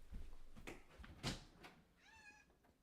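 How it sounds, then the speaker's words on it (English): A pet cat meows at a room door, a short rising-then-falling cry near the end, heard fairly close after some faint shuffling and background noise. "My cat has entered the room"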